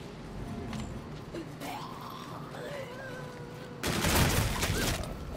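Video game gunfire: a dense, loud burst of rapid shots erupts near the end after a quieter stretch with faint voices and electronic tones.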